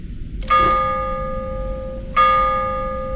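Two clear church bell strikes ring out in the video game Prophecy, each with a bright metallic attack and long sustained tonal decay, the second following about a second and a half after the first, over a low background hum.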